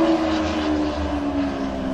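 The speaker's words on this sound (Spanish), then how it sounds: "También mejoró el sistema de escape para asegurarse de que todos sepan que ha llegado." Matte grey Lamborghini with an upgraded exhaust system, a steady loud engine drone with a low rumble and droning tones held throughout, no talk.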